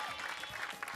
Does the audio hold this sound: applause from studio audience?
yes